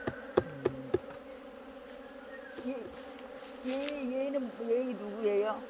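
Korean native honeybees buzzing during an artificial swarm split of a hive, with several sharp knocks early on, then wavering drones rising and falling close by.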